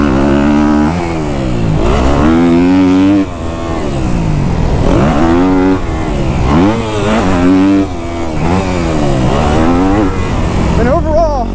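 A Kawasaki KX250F dirt bike engine held in third gear revs loudly and close, its pitch climbing and falling again and again in repeated surges without gear changes.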